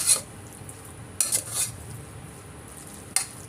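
A spoon scrapes and clinks against a dish while oil is mixed into food, with a few sharp metallic taps spaced apart over a soft continuous background hiss.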